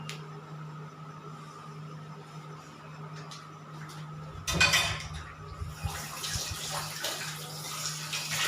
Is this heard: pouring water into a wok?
yes